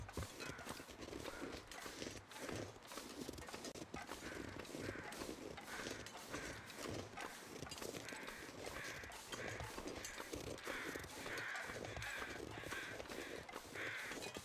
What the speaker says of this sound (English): I see the crows.